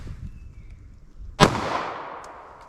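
A 9mm Federal Syntech Defense round fired from a short barrel into clear ballistic gel gives one loud, sharp gunshot with a ringing, decaying tail, preceded by quiet ambient noise and no talk.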